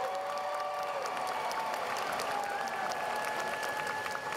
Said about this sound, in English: Please give a round of applause for the Department of Human and Organizational Learning graduates.